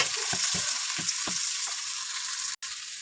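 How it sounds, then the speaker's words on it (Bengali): Polao rice frying with crisp fried onions in a pan, a continuous sizzle broken by several stirring scrapes in the first half, then an even hiss. "আমি এখন পোলাও চালগুলো দিয়ে 5-7 মিনিট ভেজে নেব"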